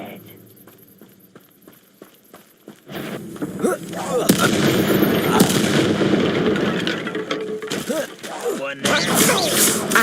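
Spell-casting effects from the video game Hogwarts Legacy: sharp bursts, whooshes and impacts following each other over a busy game soundscape, after a quieter opening with faint rhythmic ticks, with a voice speaking intermittently.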